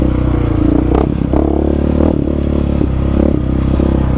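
A Yamaha Raptor 700 quad is held in second gear at full throttle. Its loud, close engine drones steadily with a strong low harmonic hum, with rattling clatter and scraping over it and no talk.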